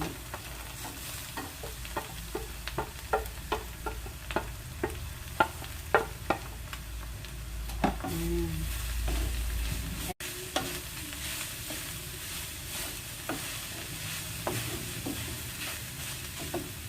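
Santol frying in a pan with shrimp paste, stirred repeatedly: a steady sizzle under a series of sharp scraping and tapping strokes of the utensil against the pan, close and moderately loud, with a brief gap partway through.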